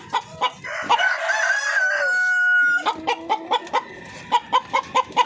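Native chickens cluck in short, repeated bursts close by, with a rooster's sustained crow rising over them early on; the clucks continue in an uneven rhythm to the end.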